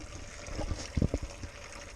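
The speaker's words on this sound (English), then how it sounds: "brown sludge is what got flushed out of the system" Old brown coolant sludge draining from the valve of a 1906 Reo Model B cooling system during a flush, a close, irregular trickle with a few gurgling spurts.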